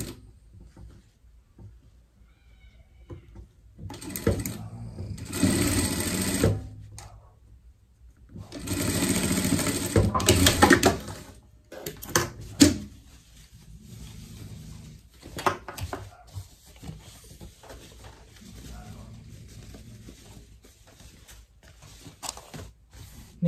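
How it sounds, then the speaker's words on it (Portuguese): A sewing machine runs in two loud bursts of stitching as it sews a seam across a Christmas pet shirt, followed by quieter rustling and handling of the fabric. "E vai passar uma costura aqui de fora a fora."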